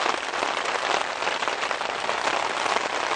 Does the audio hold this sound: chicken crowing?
no